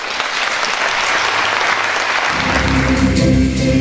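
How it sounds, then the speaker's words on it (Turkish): An audience at a Teachers' Day celebration in Zeytinburnu breaks into loud, sustained applause that continues steadily throughout, joined partway by a low hum from the hall's sound system. "Saygıdeğer konuklar, alkışlarımız Mehmet Alpay için."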